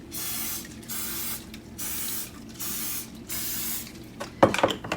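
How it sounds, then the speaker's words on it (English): Five short hissing bursts of aerosol cooking spray onto a muffin tin come in a steady rhythm, close by, followed by a few light clinks of metal. "we're gonna go ahead and spray each of these to keep it from sticking"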